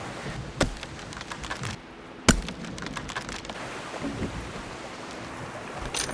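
Rain falling in the survival video game Project Castaway, a steady patter with two sharp, loud cracks that stand out against the continuous downpour, and no one talking.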